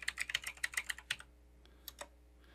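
Quick, close keystrokes on a computer keyboard, a fast run of about a dozen taps followed by a pause and a few scattered final presses, quiet and alone.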